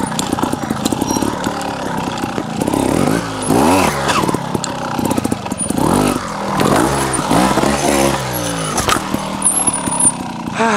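A TRRS One RR trial motorcycle from 2023 is ridden on its rear wheel, its engine loud and close, revving and blipping repeatedly in sharp bursts with rising and falling pitch.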